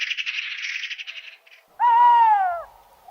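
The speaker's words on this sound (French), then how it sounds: "Mais c'est une chouette hulotte, ça." A tawny owl gives a single clear, wavering hoot, loud and close, following a stretch of twittering birdsong.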